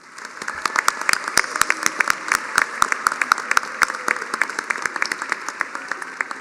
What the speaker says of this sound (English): Let's please give them all a big round of applause.